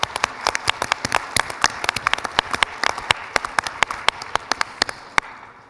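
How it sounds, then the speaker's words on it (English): A conference room audience applauds the winners at a supercomputing event, a dense crowd of hand claps, loud and close, fading at the end. "So big round of applause"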